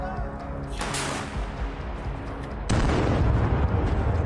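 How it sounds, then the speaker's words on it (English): Ukrainian artillery fires in combat, one sharp loud boom partway through followed by sustained rumbling blast noise, over a lower background of distant rumble. "Ukrainian artillery opens fire."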